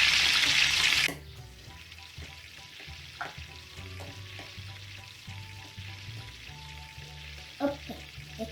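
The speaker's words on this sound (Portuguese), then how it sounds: "E depois eu vou fritar o leite" Pretend frying of milk in a toy kitchen pan, a sizzling sound effect: a bright burst of hiss for about a second, then quieter clinks and soft handling noises.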